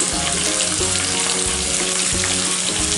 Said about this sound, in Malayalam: ഇനി ഇതൊരു 5 മിനിറ്റ് ഒന്ന് നമുക്ക് വഴറ്റി കൊടുക്കാം.